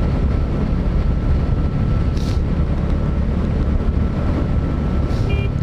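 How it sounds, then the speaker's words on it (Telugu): A small boat passing on the water near a bridge, heard as a steady low engine rumble under strong wind noise, continuous and fairly loud throughout. "ఏ బోటు పోతుంది, చిన్న బోటు"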